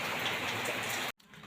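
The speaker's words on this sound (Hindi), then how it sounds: "ये बारिश देरी से हो रही है" Steady rain pours down in a dense, even wash of noise, then cuts off abruptly near the end, leaving a quieter background.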